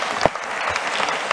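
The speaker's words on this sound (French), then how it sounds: "je pense qu'on peut vous applaudir pour cette" Brief applause from a conference audience follows a round table on low-carbon renovation, a short burst of many hands clapping in a hall with one sharp clap standing out near the start.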